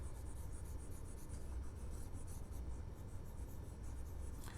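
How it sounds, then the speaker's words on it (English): A drawn triangle being rubbed off a board, a soft continuous scrubbing and rubbing, faint and close, with no one speaking. "let me erase the triangle over here."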